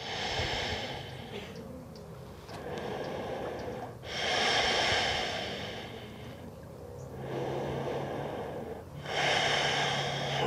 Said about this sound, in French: Prends le temps de respirer.